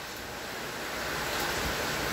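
Heavy rain pouring during a strong thunderstorm in Athens, a dense, steady broadband roar of falling water that fills the whole clip without a break and without voices.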